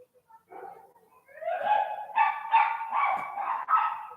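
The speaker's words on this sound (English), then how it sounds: "That dog, you know, it's like it doesn't get enough attention." A dog barks and whimpers in a run of about five or six whiny, yelping calls that grow louder and come close together, fairly near and alone with no talk over them.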